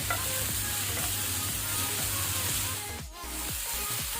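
Vegetables sauté in a wide pan over a flame, a loud, constant hiss of frying with a low steady hum beneath and faint stirring, with no voices.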